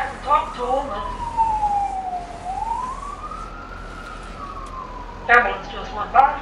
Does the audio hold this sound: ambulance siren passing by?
yes